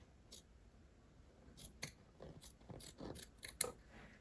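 Scissors trim small fabric loops to make fringe, giving a series of sharp, close snips in an uneven rhythm, about a dozen cuts, quiet apart from the crisp blade closures.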